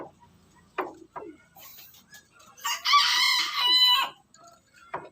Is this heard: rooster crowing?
yes